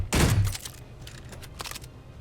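A rapid-fire weapon in the sandbox game Space Engineers, a loud thumping burst at the start followed by fainter quick shot clusters trailing off.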